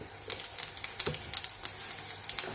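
Cumin seeds sizzle in preheated oil for a Punjabi kadhi tempering, a quiet crackling fry with scattered sharp pops over a soft steady hiss.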